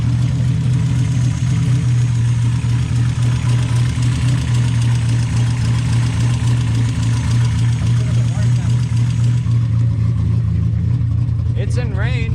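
A Mazda Miata fitted with an aftermarket cam idles roughly, with a loud, lumpy, uneven low drone that runs steadily throughout. Voices talk over it near the end.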